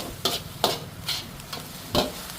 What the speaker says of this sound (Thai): ขั้นตอนนี้พัดไปเรื่อยๆครับ จนว่าไข่ของข้าวจะแห้ง